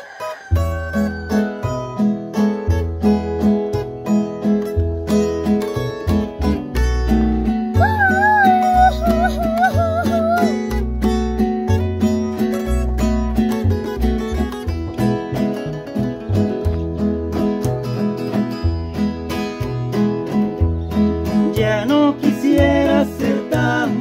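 A band plays a Salvadoran song, with steady bass and percussion, chordal accompaniment and a melodic lead line. It stays loud and continuous throughout, and no one speaks.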